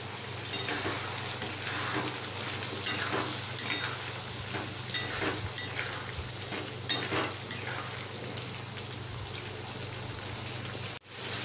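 Pointed gourd and potatoes are stirred and sautéed in spice paste in a pan, a steady close sizzle broken by repeated scraping strokes of the spoon, with one sharp clatter near the end.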